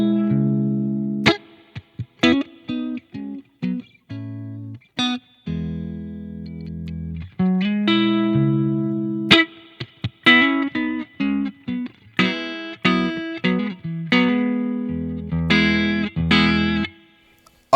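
Electric guitar through a BOSS GT-1000 with spring reverb, playing a series of clean, chordal phrases and single notes with short gaps, the reverb tails ringing out between strums; loud and close, no talking.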